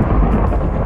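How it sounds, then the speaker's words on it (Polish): A lightning strike's thunder in Minecraft, a very loud, dense low crash lasting under a second, alone with no talk. "Prosimy cię o piorun."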